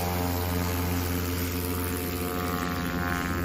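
A backcountry STOL airplane landing at a Swamp STOL competition, a loud continuous propeller-engine drone with steady harmonic hum, heard from nearby with no talk.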